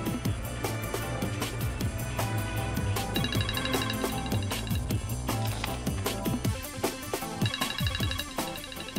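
A mobile phone left behind rings with a repeating electronic ringtone melody, bright and continuous, sounding alone without any voices over it.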